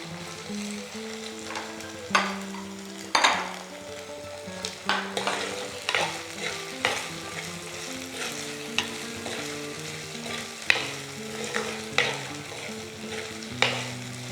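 Green chillies frying in oil and being stirred for Kottayam-style sardine fish curry, a steady sizzle with repeated sharp clinks and scrapes of the spoon against the pan, and a tune playing under it.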